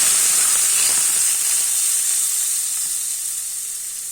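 Mint sauce poured onto a squash and meat stew, a loud, close, continuous hissing sizzle that slowly fades over a few seconds, with no voices.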